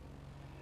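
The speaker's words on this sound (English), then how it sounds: "That's our plane there, a very practical little plane." A small practical propeller plane in Microsoft Flight Simulator 2020 drones steadily with a low, even engine hum throughout, no voices over it.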